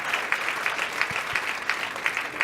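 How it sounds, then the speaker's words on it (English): An audience at a business hall of fame ceremony gives a round of applause, with steady, moderately loud clapping from many hands and no pauses. "Just another round of applause for her."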